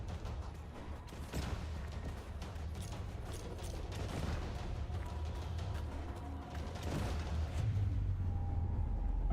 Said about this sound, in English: Spear grenade launcher level 2.